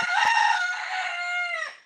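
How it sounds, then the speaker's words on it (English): A rooster gives one loud, close cock-a-doodle-doo crow that holds steady before trailing off, with a quick cluck at the very start. "Between his crowing and her clucking, and the baby cheeping"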